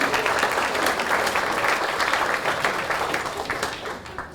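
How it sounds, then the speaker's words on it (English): A meeting audience at a community park presentation applauds in a steady, dense wash of clapping that holds for several seconds at fairly even loudness before easing slightly toward the end. "please give yourselves a round of applause"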